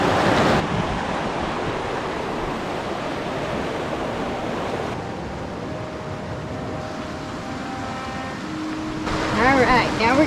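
Creek water rushes steadily through Crazy Woman Canyon, a continuous broad wash of flowing water up close. A person talks over it, with a brief burst of louder sound near the end.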